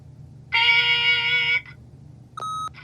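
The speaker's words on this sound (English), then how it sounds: "leave a message at the beep and we'll get back to you as soon as..." Answering-machine beep from the video game The Wolf Among Us: a long, loud steady electronic tone lasting about a second, then after a pause a second, shorter tone at a different pitch, with no talk over it.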